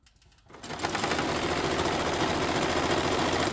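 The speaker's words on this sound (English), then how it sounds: "so I sewed two pieces together and then cut off" A sewing machine stitching fabric pieces for a tote bag strap starts up and then runs fast and loud, a steady continuous mechanical whir that stays close and alone with no talking.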